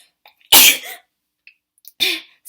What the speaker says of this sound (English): I don't mean to blast your ears with my sneezes.